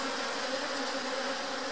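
Honey bees buzz steadily at an open hive during a hive split, a dense, continuous close-up drone with no voices over it.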